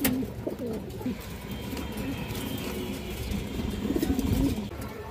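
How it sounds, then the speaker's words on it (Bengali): A Gola pigeon in a breeding pair coos close by, low rolling coos repeating through a dense loft murmur, fairly loud with no talk over it. "একবারে পুতুলের মতো একবার গররা কবুতর আছে দর্শক"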